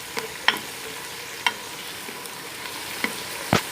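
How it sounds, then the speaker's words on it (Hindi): Onions frying in a pan with ginger garlic paste, a steady low sizzle punctuated by a few sharp scraping stirs of a spatula. "प्याज को 2 मिनट के लिए फ्राई करके उसमें अदरक लहसुन का पेस्ट ऐड कर देंगे"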